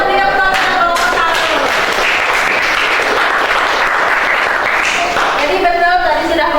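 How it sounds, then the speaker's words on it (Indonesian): Audience applause after a presentation in a classroom setting, loud mixed clapping from a group that swells through the middle, with voices audible before and after. "Kita berikan tepuk tangan."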